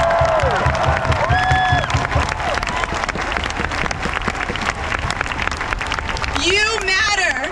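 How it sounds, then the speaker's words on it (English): A crowd at a Stop Asian Hate rally claps and cheers loudly and steadily for several seconds, close and sustained, with shouts and whoops rising over the applause and a voice heard briefly near the start. "Please cheer for the Asian American children who are here."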